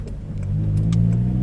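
A Honda engine on a FlashPro tune revs up briefly, a close, steady mid-pitched engine drone swelling over about a second and a half with no speech.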